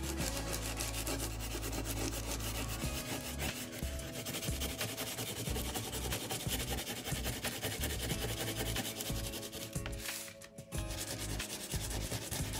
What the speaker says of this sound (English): we're just gonna keep rubbing here.